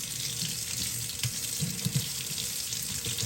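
An Arctic Air Smart Chill cooling tower filter is soaked under a running sink tap, giving a steady hiss of water with faint splashing shifts as it is moved through the stream.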